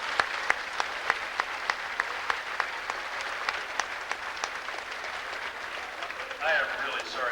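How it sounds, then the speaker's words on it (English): Scattered applause from a small audience welcomes an honored guest speaker from the Board of Education at an evening event, sharp individual claps ringing out fairly close amid a thin patter, with a voice breaking in near the end. "Let's give him a big round of applause."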